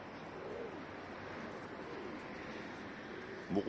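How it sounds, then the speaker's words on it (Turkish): A racing pigeon gives soft, faint coos over a steady low background hum. "Bu kuş yer kuşu ya."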